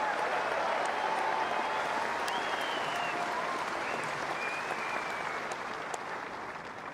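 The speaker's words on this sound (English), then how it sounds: "keep the applause going for the 2 men who made it through to the final" Sustained crowd applause at Kooyong for the two 2011 finalists, Hewitt and Monfils, a broad continuous clapping wash with faint whistles on top, tapering slightly at the end.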